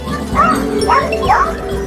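A puppy gives three short, rising yips and barks in quick succession, close by, over a steady low background hum.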